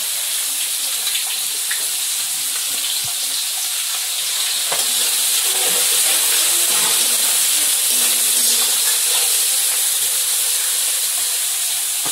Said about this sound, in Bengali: পেঁয়াজ কুচি দিয়ে দেবো এর মধ্যে।